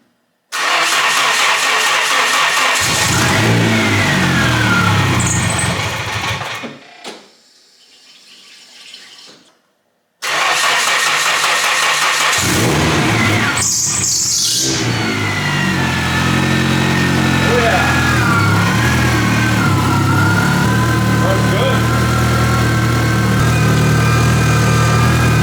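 A built Nissan KA-T turbo engine cranks and fires, cuts out briefly, then catches and runs at a loud, steady roar close by with no talk.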